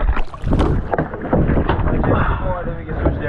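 A small boat out on open water, wind buffeting the microphone and water washing steadily around the hull, with voices talking over it throughout.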